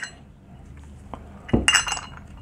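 An M12 bolt and a big chunky washer clink together in brief metallic taps, a faint tick first and then a louder cluster of ringing clinks near the end, close by with no talk.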